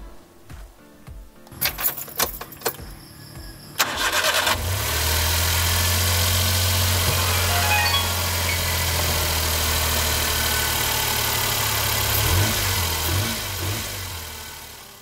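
A Suzuki DA63T with a K6A engine cranks and catches after a few seconds of handling noises and a faint key jingle, then settles into a steady, close mid-pitched idle that holds to the end.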